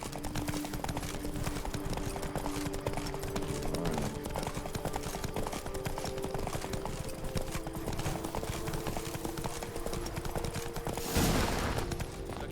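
Continuous galloping horse hooves in The Witcher 3 video game, a dense rapid clip-clop over a steady background bed, loud and close throughout with a brief rushing swell near the end.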